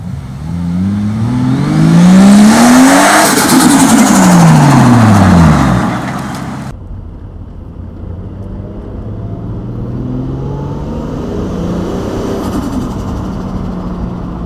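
A single-turbo Toyota Supra engine revs up loudly and the pitch sweeps up and down through gear changes, then the car continues at a lower, steady drone.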